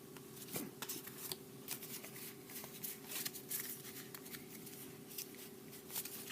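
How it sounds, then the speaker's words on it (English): Yu-Gi-Oh trading cards are shuffled and sorted by hand, giving faint, quick papery flicks and soft taps in an irregular rhythm, close by and quiet, with no talking. "let me organize the cards for just a moment"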